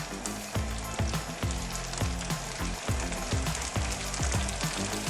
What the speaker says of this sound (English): Fold the GoshNan very carefully and put it in the oil.